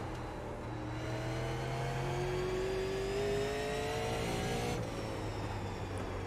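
A super late model race car in iRacing at Concord Speedway, engine droning steadily with rising and falling pitch as it revs through the corners, heard alone and close.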